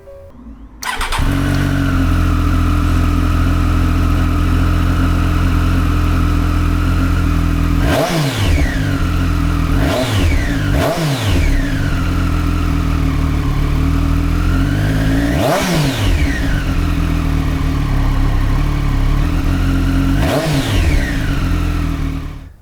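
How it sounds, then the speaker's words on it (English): A Triumph Street Triple R motorcycle on its stock exhaust starts and settles into a loud, steady idle, then is revved sharply four or five times, each rev rising and falling back to idle, close and alone. "let's check on the stock exhaust sound to see what we're working with baseline"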